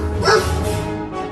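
A cartoon dog lets out a loud yelping bark after being struck by mistake, a brief pained cry over a dense, steady mix of background sound.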